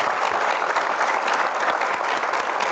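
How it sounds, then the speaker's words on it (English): An audience at a summit session gives a panel a dense, even round of applause, loud and continuous throughout without speech. "Big applause to our panel."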